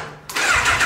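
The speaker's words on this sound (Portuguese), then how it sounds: "Faz uma demonstração dessa moto pra galera" A Honda CB 1000 motorcycle engine fires up after a brief quiet moment, the starter catching and the engine bursting into a loud, close, rough rumble that holds steady to the end.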